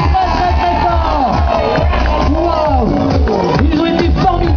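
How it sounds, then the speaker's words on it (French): A children's audience at a kids' club show in Welkenraedt cheers and shouts loudly and continuously, a dense crowd of high excited voices with whoops, with more shouting than clapping. "Applaudissez-vous très très fort."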